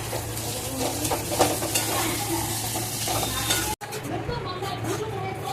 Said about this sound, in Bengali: এই মশলাগুলো এখন আমি কষিয়ে নেব, ঢাকা দিয়ে দেবো, তাহলে আলুটা একটু সেদ্ধ হবে।